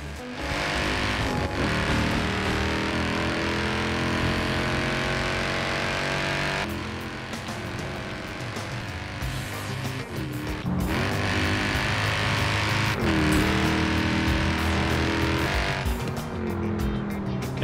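Forza Horizon 4 race car pulling away from low revs in third gear, engine note climbing steadily and loudly with gear changes and brief tire noise over about eighteen seconds.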